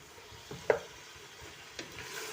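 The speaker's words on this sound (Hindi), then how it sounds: "अब इसकी अच्छी तरह से भुनाई कर लेंगे हम" Potatoes and tomatoes fry quietly in a pan with a soft background sizzle, broken by a couple of sharp scraping stirs of a spoon against the pan.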